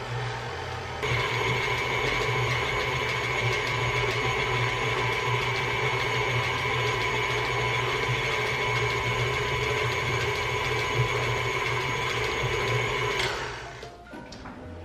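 An electric mixer creams gumdrop cookie dough, its motor running as a steady, loud whirring drone for about twelve seconds before cutting off near the end, with no voices.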